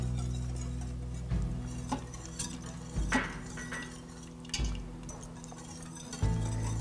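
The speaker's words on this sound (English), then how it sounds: "switch to this big whisk" A big metal whisk clinks and taps against the inner pot of an Instant Pot while stirring a sauce, giving a series of light, irregular metallic knocks over a quiet background.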